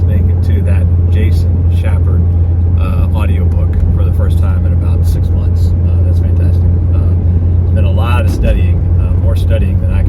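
Car engine hums steadily from inside the cabin while driving down a road, a constant low drone under someone talking throughout.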